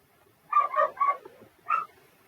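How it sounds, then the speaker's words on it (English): A small collie terrier cross dog barks three times in a quick burst, then once more after a short pause, fairly close and with no talk over it. "The one that's barking is like a collie terrier."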